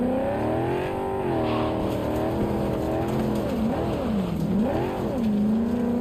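A car driving in the Cyberpunk 2077 video game, engine tone rising and falling as it accelerates and eases off, loud and close, with no one talking.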